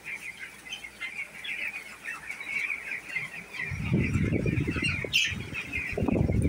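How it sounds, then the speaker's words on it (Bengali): A flock of 250 two-week-old broiler chickens chirps steadily inside a poultry shed, then bursts of wing flapping and scuffling break out close by, loud and rustling, over the continuous cheeping. "এই শেডে মুরগি আছে 250 পিস।"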